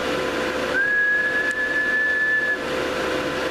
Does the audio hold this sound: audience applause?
no